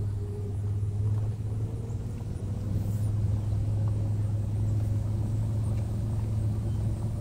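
Steady low engine rumble inside a car cruising down a small-town road in Forest, Louisiana, a continuous drone with faint road noise and no talking.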